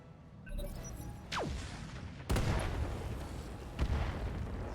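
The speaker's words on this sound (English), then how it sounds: "That's definitely an artillery piece." Artillery fire in the RogueTech mech combat game: several heavy booming blasts, one with a falling whistle before it, each followed by a long rumbling decay, loud and spaced a second or two apart.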